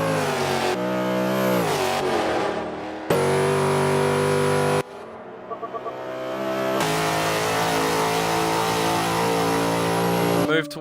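A V8 race car roars loudly as it accelerates along the straight, its engine note climbing in repeated surges with brief gear-change dips, close and continuous throughout.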